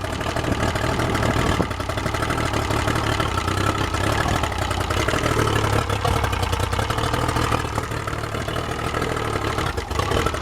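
Yamaha outboard boat motor idling after being throttled down, a steady continuous engine drone at moderate loudness, alone without talk.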